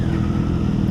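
A 2016 Honda CBR 1000 RR sport motorcycle on Dunlop Q3+ tires, heard while riding: a steady, loud low engine drone with broadband wind rush, continuous and unchanging through the short moment.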